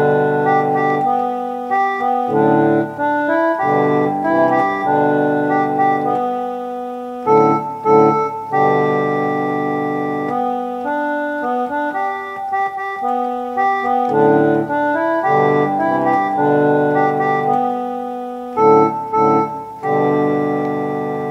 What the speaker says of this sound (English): If you're on an organ, you would sound something like this